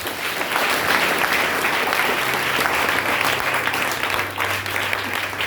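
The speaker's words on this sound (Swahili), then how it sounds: "Wapigieni makofi." Congregation applause during a church service, a dense, continuous wash of many hands clapping, loud and sustained throughout with a faint low hum beneath.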